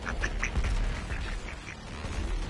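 Ducks in Doom quack in a rapid run of nasal calls over a dense, noisy game background, the quacks clustered early and thinning out, with no talking.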